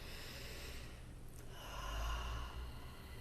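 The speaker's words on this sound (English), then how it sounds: "you can just take a conscious breath" A single slow, deep conscious breath drawn in and let out close to the microphone, soft and airy, in an otherwise quiet space with no talking.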